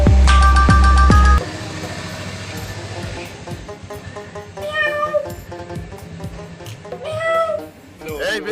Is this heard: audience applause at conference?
no